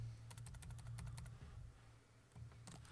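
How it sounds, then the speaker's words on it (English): Quiet computer keyboard typing in bursts of rapid key clicks, with a short pause before a final flurry, set over a low steady hum. "See, this keyboard is much more quiet."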